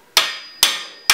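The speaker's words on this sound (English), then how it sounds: "Fails, use a hammer." Three sharp, loud hammer strikes on a metal suspension arm part during a homemade go-kart build, evenly spaced about half a second apart, each ringing briefly before fading.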